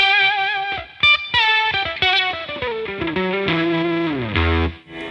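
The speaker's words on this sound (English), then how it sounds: "Next, octave fuzz." Electric guitar through an octave fuzz pedal gives buzzy, distorted sustained notes and short sliding phrases, loud and close, with no talking.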